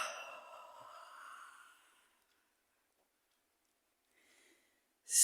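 A person stretches and lets out a long, loud yawning exhale lasting about two seconds, fading into quiet, with a faint breath later and a sudden sharp burst at the very end.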